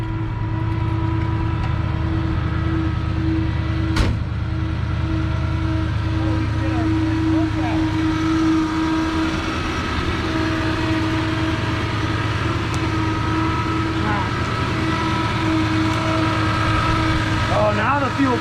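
Abandoned 1970 Dodge D-100 truck engine idling steadily after its first start in about 19 to 20 years, a continuous close rumble with a brief click early on.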